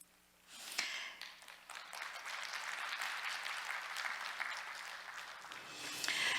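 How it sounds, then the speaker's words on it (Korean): An audience at a policy conference session breaks into applause after a quiet moment, steady clapping from a crowd that swells and holds for several seconds, moderately distant, with no speech over it. "큰 박수 부탁드리겠습니다"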